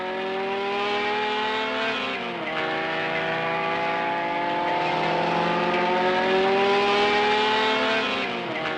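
Renault Alpine A210 race cars with Renault Gordini 1300 cc engines of 130 hp at Le Mans, a steady loud engine drone with pitch rising and falling as the cars rev and pass, continuous throughout with no talk.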